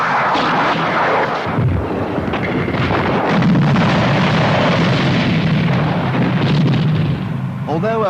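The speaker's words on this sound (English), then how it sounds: "you can expect additional fire from heavier guns and multiple-barreled rocket launchers" A barrage from artillery and multiple-barrelled rocket launchers in a 1983 Soviet military scenario rumbles as continuous, dense booms and roaring fire. A voice talks over the barrage throughout.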